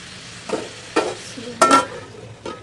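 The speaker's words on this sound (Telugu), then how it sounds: "వచ్చేసి ఇక్కడైతే నేను మధ్య మధ్యలో తీసి కలిపాను అనుకోండి" Cauliflower fries in a pan with spices while a spoon stirs it in a few scraping strokes, each bringing a brief burst of sizzle, close and moderately loud with no speech.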